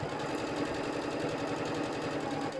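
A sewing machine stitching fabric and batting for a microwavable bowl cozy, a fast, even mechanical chatter up close that runs steadily without pause and with no voices.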